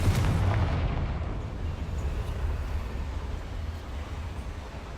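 Confringo fire spell blasting in Hogwarts Legacy on PS5, a single heavy booming explosion at the start that trails off into a long low rumble, loud and close.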